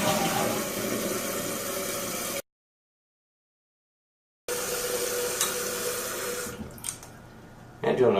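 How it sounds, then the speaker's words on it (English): A toilet with a fill valve flushes with a loud rush of water that cuts out abruptly, then resumes as gurgling refill that thins and tapers before a final surge. "let's flush it"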